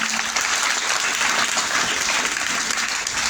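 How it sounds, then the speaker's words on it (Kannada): Audience at a school event gives loud, dense, continuous applause, a steady wash of many clapping hands with no break. "ನಾವೆಲ್ಲರೂ ಸೇರಿ ಜೋರ ಚಪ್ಪಾಳೆ ಮುಖಾಂತರ ಅಭಿನಂದಿಸೋಣ"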